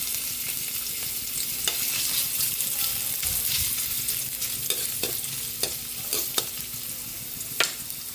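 Ginger sizzling in a pan as mussel tinola is started, a steady close frying hiss with occasional sharp clicks and stirring scrapes throughout, no talking.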